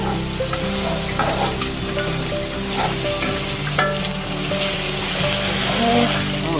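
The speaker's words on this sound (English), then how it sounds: "now we're going to move these onions around because they're popping just the way we want" Onions frying in butter on a flat-top griddle for diner-style patty melts, a dense crackling sizzle with spatula scrapes and stirring clatter, loud and close throughout.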